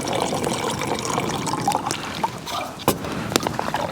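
Water rushes steadily through a fast camp water filter on a winter canoe trip, a continuous splashing pour with a few sharper drips and knocks near the end.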